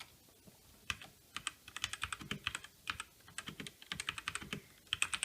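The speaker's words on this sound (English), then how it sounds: "very clicky, very responsive. As soon as you type, it registers on your device." Fingers type on a RisoPhy wireless Bluetooth keyboard with tall, clicky keys, a quick irregular patter of crisp key clicks heard close and quiet, with brief pauses between bursts and no talking.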